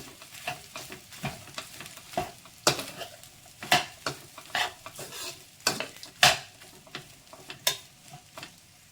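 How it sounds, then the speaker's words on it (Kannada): Spatula strokes stir hot potato fried rice in a pan, with a soft sizzle and scraping as the rice is tossed; a steady series of close, distinct stirring scrapes and taps, with no voices. "ಮಿಕ್ಸ್ ಮಾಡ್ಕೊಳ್ಳಿ ನೀಟಾಗಿ ಒಂದೆರಡು ನಿಮಿಷ ಬಿಸಿಯಲ್ಲೇ ಹಾಗೆ ಮಿಕ್ಸ್ ಮಾಡಿಕೊಂಡು ಚೆನ್ನಾಗಿ ಮಿಕ್ಸ್ ಮಾಡ್ಕೊಳ್ತಾ ಇರಿ"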